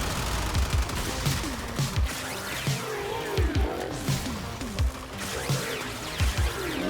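The Basmu weapon in the video game Warframe fires in a steady stream of rapid shots over a dense, noisy wash of game effects, loud and close throughout.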